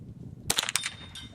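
A single rifle shot striking a steel plate target at a shooting range, a sharp crack with a ringing metallic ping that sustains and fades over about a second.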